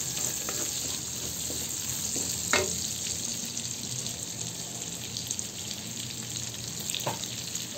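Onions sizzle in hot oil in a pan while cooking pansit palabok, a steady soft frying hiss with occasional stirring clinks, faint and continuous, no talk.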